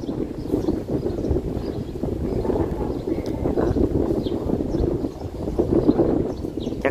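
A motorboat runs on a river, its low engine drone steady and continuous under broadband wind and water noise, with no clear speech.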